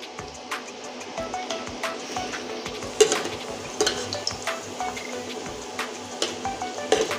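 Chhana jilipi sweets frying in hot oil, giving a steady soft sizzle with occasional clinks and scrapes of a utensil turning them in the pan, close and fairly quiet, with no voices.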